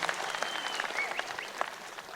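An esports crowd at a League of Legends ECC Poland opening event claps in a steady patter of applause that stays moderate and even, with no voices above it.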